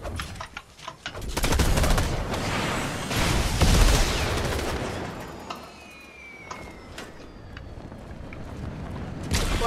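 Fortnite gunfire from a trick shot, a dense rattling burst of rapid shots that swells over a few seconds and then fades into quieter game ambience, loud and with no talk.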